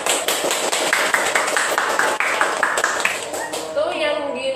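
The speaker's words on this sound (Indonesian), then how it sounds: "Nah di sini tepuk tangannya dulu dong untuk Mbak Feni ya" Audience applause for a guest at a talk on child language development, a fairly loud spell of rhythmic clapping that thins out toward the end, with a voice briefly audible as it fades.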